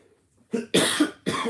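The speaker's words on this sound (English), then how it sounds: "I'm sorry if I cough and stuff on the stream." Three harsh coughs in quick succession, close and fairly loud, after a brief quiet start.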